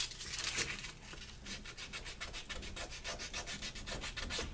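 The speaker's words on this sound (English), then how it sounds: "I'm going to have to sand this and give that a finished edge" Steady sandpaper rubbing along the edge of a leather knife sheath, a continuous close scratchy rasp with quick back-and-forth strokes speeding up toward the end, no talk.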